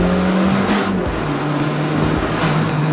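A turbocharged Mazda Miata's engine roars steadily and loud at close range, a constant broadband drone with a low engine tone that dips and recovers as it pulls hard under acceleration.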